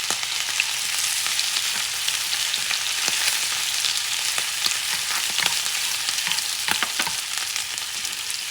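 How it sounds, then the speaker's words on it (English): Squid fries in a pan for seafood ramen, a constant close sizzle with crackling pops and spatters scattered over the whole stretch, no voices. "Add the squid."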